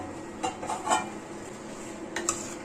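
A lid lifted off a cooking pot of aviyal, giving a few light metallic clinks and taps over a steady low kitchen hum, close but soft, no talking.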